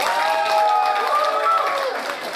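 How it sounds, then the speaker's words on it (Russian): Audience applause at a ballet show, a steady wash of clapping and cheering from a crowded hall that holds for a couple of seconds with no talking. "можно удвоить аплодисменты"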